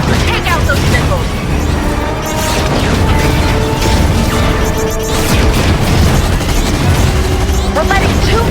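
Fortnite Collision live event battle: missiles shot down in a dense barrage of booms, crashes and rapid gunfire bursts, loud and continuous with mechanical clatter and a faint voice underneath.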